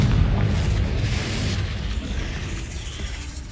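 Deep, rumbling boom of a Confringo explosion spell in a video game, loud and low, with a long, gradually fading roar.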